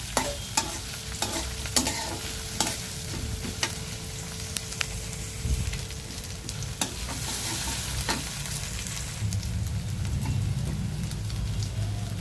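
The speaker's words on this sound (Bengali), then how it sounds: "পেঁয়াজটা ভেজে নেব।" Chopped onions frying in hot oil, sizzling steadily throughout with frequent scraping and clinking of a spatula stirring the pan, alone with no talk.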